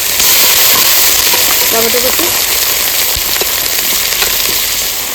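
Crab masala cooking in hot oil with bay leaf, dried chilli, cumin, onion, ginger and garlic paste, giving a loud continuous sizzle and spatter close up with occasional stirring scrapes.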